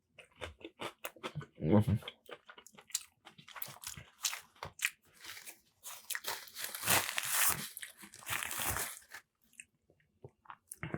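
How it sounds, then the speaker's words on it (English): Someone bites into a saucy burger sandwich at close range, giving wet crunching and squishing chews that come in uneven bursts over several seconds, with a brief murmur of approval. "we're gonna go into the first bite here"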